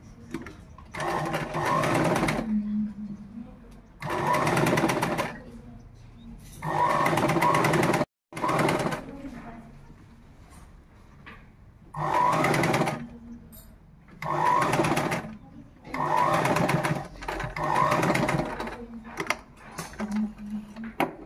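A sewing machine stitches a uniform shirt in repeated loud bursts of rapid whirring, each lasting one to two seconds and separated by short pauses, with brief quiet talk between runs.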